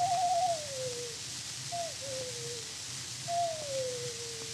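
A man whistles an imitation of a ring dove's call, giving three slow, mournful gliding notes that fall in pitch, set against the steady hiss of an old 1915 recording.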